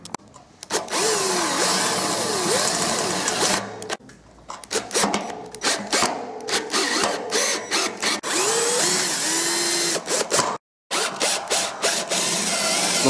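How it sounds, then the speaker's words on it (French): A power drill drives screws into a pergola crossbar, loud and close, its motor whining in repeated bursts with short pauses and a brief silence near the end, no voices. "on va fixer les vis pour améliorer la fixation"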